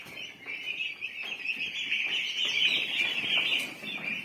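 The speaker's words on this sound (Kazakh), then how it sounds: "Мына жерде күрке тауықтың балапандары барлығы." A crowd of young turkey chicks on a poultry farm, some newly hatched and some still tiny, chirps nonstop in a dense, high, overlapping chorus that stays close and steady throughout.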